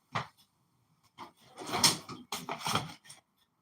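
Kitchen fridge door pulled open and pushed shut in a home kitchen, a few soft thumps and rattles in quick succession, close by and moderately quiet with short pauses between the handling sounds.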